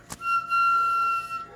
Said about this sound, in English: Oh, that's a doorbell.